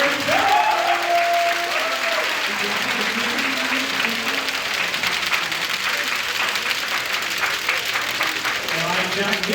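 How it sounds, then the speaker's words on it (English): Audience at a startup pitch event applauds steadily, a sustained wash of clapping from a room full of people, briefly under a voice at the start and then carrying on alone. "give a round of applause for Aaron."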